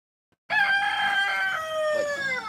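A chicken sounds loudly and close by on a farm at feeding time, a single sustained, strained call resembling a rooster's crow more than soft clucking, heard alone.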